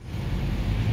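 A Turbo S car driving past on a street in Marbella, a brief, steady low engine rumble and tire roar lasting about a second, fairly loud and close.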